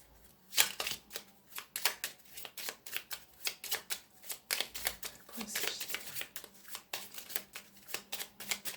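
Tarot cards drawn, shuffled and laid down for a Sagittarius horoscope reading, a quick run of close, soft papery flicks and snaps in uneven rhythm, faint overall, with a voice speaking over parts of it.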